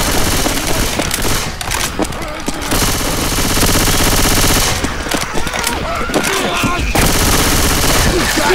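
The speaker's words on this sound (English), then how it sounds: "God damn it, stop shooting me!" Rapid automatic weapon fire in a Left 4 Dead 2 versus match on Dead Center, loud sustained bursts with brief pauses, plus game sound effects and a voice speaking over the shooting.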